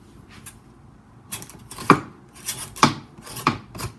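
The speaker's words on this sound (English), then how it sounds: "So I'm going to peel them, chop them up" Butternut squash being chopped on a cutting board, several sharp knife strikes in an irregular rhythm following a few quieter scraping strokes, close and clear with no talk.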